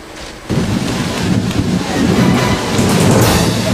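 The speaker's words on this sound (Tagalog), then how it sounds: "Lala, malakas pa rin ang hangin pero bahagya ng kumalma ang panahon dito sa Masbate." Powerful typhoon wind in Masbate, Philippines surges in suddenly and keeps roaring, a loud, dense rumble that builds in strength over a few seconds.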